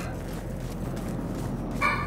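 A dog barks and yelps in the video game The Surge 2, short agitated calls over a steady bed of game ambience, with a brighter burst near the end.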